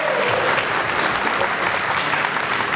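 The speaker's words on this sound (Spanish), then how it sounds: "Încă o dată aplauze pentru mirii noștri!" Wedding guests applauding the bride and groom after their dance, a loud, dense, continuous burst of clapping from a large crowd that stays even from start to finish.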